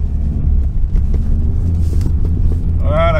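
A Skoda Karoq Sportline is held sideways in a drift on a snowy track at -18°, its engine giving a loud, low, continuous rumble with wind buffeting throughout and a brief higher whine near the end.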